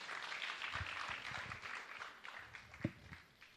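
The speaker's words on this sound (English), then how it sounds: "A round of applause to him once again." Applause from an audience at a public participation event in Mombasa, a steady spread of clapping held at a moderate distance for a few seconds, with a couple of sharper claps standing out near the end.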